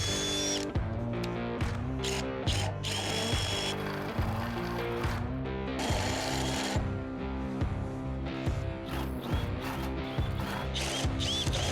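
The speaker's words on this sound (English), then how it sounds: "I'll drill a 1-inch hole through each rail so the tube can slide straight across." A power drill fitted with a 1-inch bit bores through a rail for a rooftop tent lift, with a loud, steady grinding whine, brief stops and restarts, and some rattling as it bites in.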